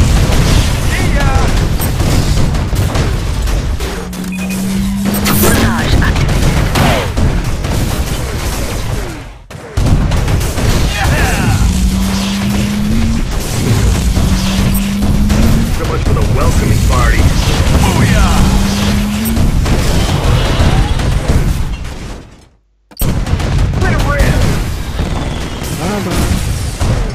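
Repeated artillery barrage explosions from the Empires and Allies mobile strategy game, loud booms and gunfire bursts recurring through the battle with steady mechanical drones, under the player's talk.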